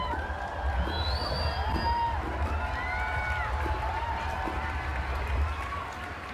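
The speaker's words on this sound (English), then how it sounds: "Yeah, there it is. There's the cheering." A large Minecon convention audience cheers and whoops at a Minecraft 1.11 Exploration Update reveal, a sustained roar of many voices with whistles and shouts, with no speech.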